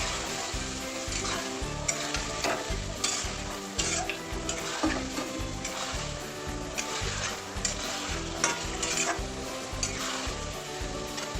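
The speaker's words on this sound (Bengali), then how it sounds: "আমি মাংসটা ভালো করে কষাবো, বেশ ভালো করে কষিয়ে নেবো।" Fried chicken pieces in bhuna masala are stirred and fried in a pan, giving a steady, close sizzle with repeated scraping stirs throughout.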